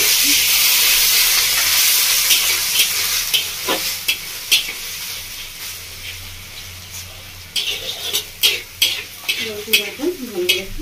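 Sliced onion with ginger-garlic paste stir-fried in a pan, a loud continuous sizzle and hiss broken by repeated scraping strokes of a spatula, growing busier and more rhythmic toward the end.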